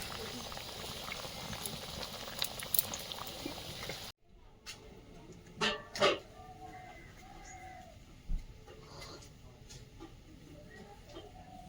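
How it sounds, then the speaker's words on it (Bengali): A cauliflower and shrimp curry simmers in a covered pot, giving a steady low bubbling hiss throughout with a few soft clinks, and no talk over it. "ধনে পাতা কুচি ছড়িয়ে দিয়ে আর একটু ঢাকা দিয়ে ফুটিয়ে নেবো"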